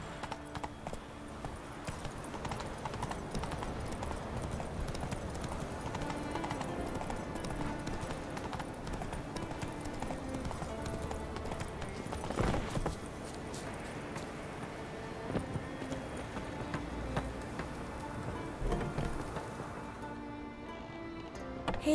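Horse hooves clip-clop steadily in the game Witcher 3: Wild Hunt, a continuous rhythmic trot mixed with game music and ambience throughout, loud and unbroken with no talk.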